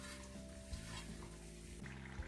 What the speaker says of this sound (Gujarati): તેલ આવી જાય પછી ધીમા તાપે બધા ઘૂઘરા તળી લેવાના